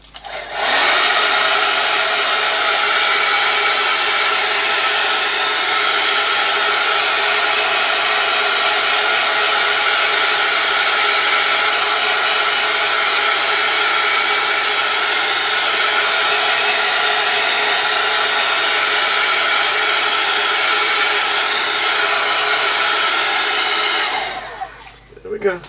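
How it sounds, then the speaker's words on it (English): A hair dryer blows steadily on a freshly painted mixed-media journal page, a loud continuous whirring roar held for about 24 seconds before cutting off at the end. "Get the old hairdryer out, so bear with me."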